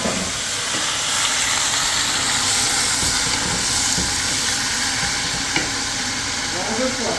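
Hot oil sizzling and hissing steadily in a pan for a bourguignon daube base, a continuous dense crackle with a few stirring clinks near the end and no talk.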